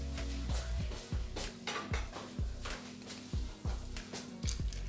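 Food is pressed flat in a cooking pot for a Kenyan meal, with a series of soft rhythmic utensil knocks and scrapes against the pot, fairly quiet and close.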